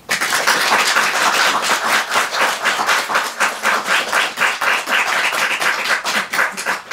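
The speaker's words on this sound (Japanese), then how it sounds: "拍手を送ってください。" Audience applause at a Japanese waka poetry arts event, loud and close, with individual claps distinct in a quick, fairly even rhythm that swells and thins over seven seconds.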